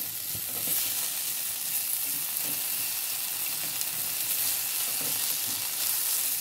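Thinly sliced potatoes fry in a pan for semia upma, making a continuous hissing sizzle at an even, moderate level with soft crackles and no voices.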